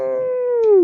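A human voice imitates a coyote howling, one sustained rising-then-falling howl held close and loud for nearly a second, alone without other talk.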